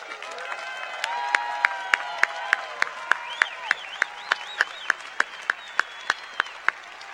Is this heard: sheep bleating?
no